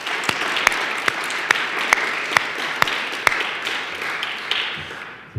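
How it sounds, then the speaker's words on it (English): Sustained applause from a conference audience for a panel, dense broadband clapping with a few sharper claps standing out, steady throughout before fading near the end. "So please give a round of applause to our panel here."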